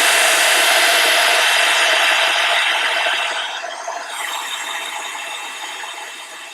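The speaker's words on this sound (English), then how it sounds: "you can always use your heat tool, heat it again and repair mistake." A heat tool blows hot air over Melt-It powder, a loud, steady, close whirring blast that softens slightly partway through and keeps running to the end.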